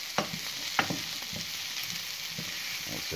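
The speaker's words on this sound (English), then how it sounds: "The fry noise is a good noise." Bolognese sauce sizzles steadily in a pan as a spoon stirs it, with a few soft scraping knocks over the constant fry noise.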